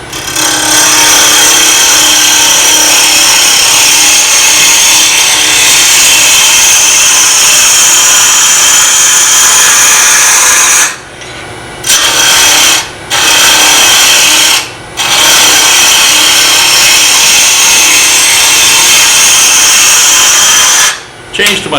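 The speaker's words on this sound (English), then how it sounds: "using my bowl gouge so I don't have to throw the chips at myself anymore" A bowl gouge shapes wood on a spinning lathe, a loud steady scraping hiss with chips flying, broken by a few short pauses where the tool lifts away.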